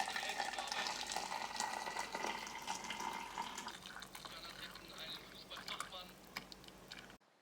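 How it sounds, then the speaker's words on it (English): Boiling water from a kettle pours steadily down a kitchen sink drain, a continuous splashing gush that runs for several seconds and tapers off at the end. "Then I grab my kettle, which has got boiling water, and I'm just going to pour it down there."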